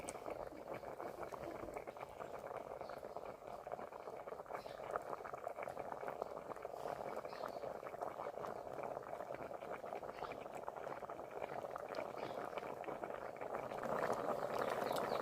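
Coconut milk with purple sweet potato bubbles and boils in a pot over a stove, giving a faint, continuous simmering patter that swells slightly toward the end.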